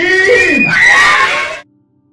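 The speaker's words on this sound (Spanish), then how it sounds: "Y que se escuche el grito para Cepillín" Crowd at a lucha libre mask-versus-mask wrestling event yells and screams for a wrestler, a loud burst of voices with rising and falling pitch lasting about a second and a half before cutting off.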